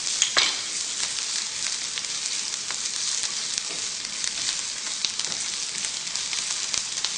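Green chilies, chopped garlic and grated ginger fry in hot oil with curry leaves for a daal, giving a steady, close crackling sizzle with faint stirring clicks throughout and no talking.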